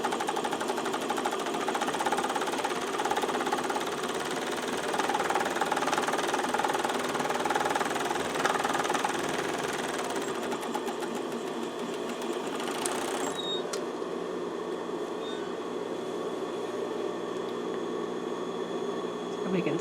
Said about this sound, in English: now I'm back at my serger, and I'll just talk to you while I'm serging these edges